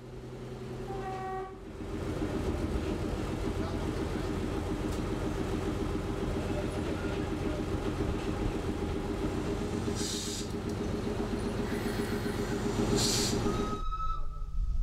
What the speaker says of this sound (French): ces images de l'arrivée du train en gare de Pellevoisin